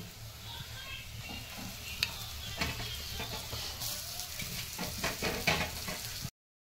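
Fenugreek leaves sizzle as they hit hot oil in a pan for a fenugreek and garlic curry fry, a steady close crackle with a few stirring scrapes and no talk.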